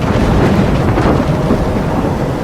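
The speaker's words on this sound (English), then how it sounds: "I'm trapped in a storm?" A thunderstorm in the game Life is Strange: loud, continuous rolling thunder over heavy rain, dense and close, with no voices.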